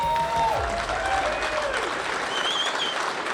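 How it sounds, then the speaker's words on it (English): Applause for technicians and winners at a bus technician awards ceremony, with a dense crowd clapping steadily and fairly loud throughout, mixed with some faint voices. "have one more round of applause for all the technicians and our winners this evening"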